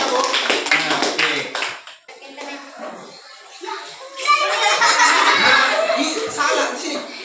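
Children in an Indonesian primary classroom clap together in a loose, brief burst mixed with chatter and giggles, with broadband taps up front before a noisy stretch of kids talking and playing.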